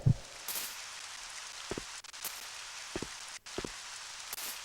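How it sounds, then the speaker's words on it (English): Steady rain in Resident Evil Code Veronica X, a soft continuous hiss of falling water at night, broken by a few sharp knocks and clicks. "It's raining to heck."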